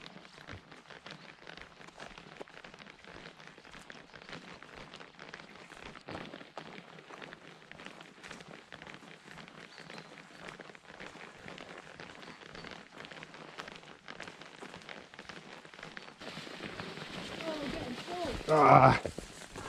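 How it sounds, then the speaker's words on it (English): Steady rain patters on a Berghaus Brecon 2 tent at a coastal wild camp at Balcary Bay, Scotland, a broadband hiss with scattered drops, swelling louder near the end, while a voice talks over it. "And it's actually raining now."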